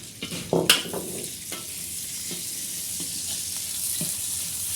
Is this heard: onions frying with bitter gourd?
yes